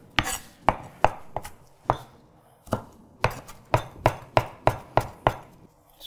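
Push cuts with a Kitchen Emperor chef's knife striking a cutting board, a series of crisp close knocks at an uneven pace, bunching into a quicker run near the end, with no talk.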